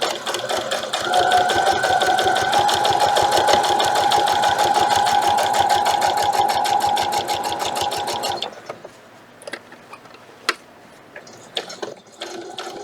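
A sewing machine runs steadily for about eight seconds, top stitching or back stitching fabric with a fast, even mechanical chatter, then stops, leaving a few scattered clicks and handling sounds.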